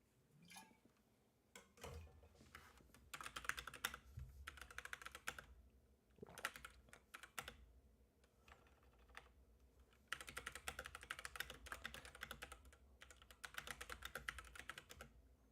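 Rapid clattering keystrokes on a computer keyboard as a short message is typed, coming in bursts with brief pauses, close and fairly quiet, with no voices.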